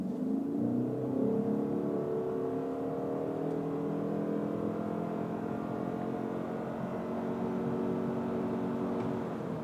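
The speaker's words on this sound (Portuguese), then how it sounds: "já liga o motor a combustão e saindo" The combustion engine of a Ford Maverick Hybrid pickup runs as the truck pulls away, a steady droning hum with pitch that rises gradually as it accelerates, heard close with no talk.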